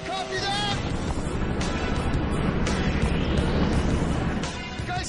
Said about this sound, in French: L'hélicoptère est maintenant au-dessus de la zone.